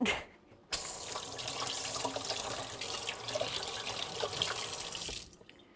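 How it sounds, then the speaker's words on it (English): Water runs steadily from a kitchen sink tap for about five seconds, a continuous broadband gush that starts abruptly and then cuts off, used to rinse a small measuring bowl while baking lemon cheesecake cookies. "wipe off that excess with some sink water"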